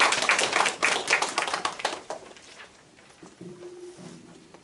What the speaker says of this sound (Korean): 한 번 더 감사의 박수 부탁드리겠습니다